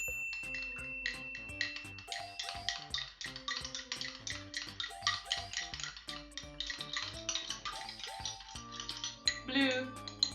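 A spoon stirs liquid in a glass for a homemade lava lamp, giving repeated light clinks and taps over steady background music.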